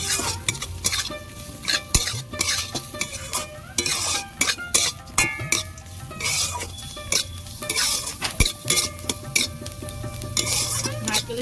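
Washed dal fries with coconut in a pan as a utensil stirs and scrapes repeatedly, irregular metallic clatters over a low sizzle, near and busy, without speech.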